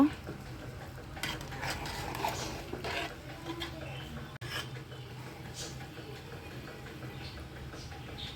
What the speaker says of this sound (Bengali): এরপর আমি ভালোভাবে নেড়ে চেড়ে নিব